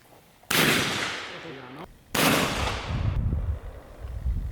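Two loud gunshots ring out at an outdoor shooting range during a clay shooting contest, each a sharp blast with a long trailing echo, followed by faint voices and rustling.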